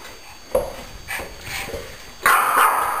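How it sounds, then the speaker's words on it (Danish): A dog barks indoors at a Christmas family gathering, giving a few sharp, fairly close barks spaced across the moment, with the loudest burst near the end and no talk over it. "Hvorfor skal hun altid gø?"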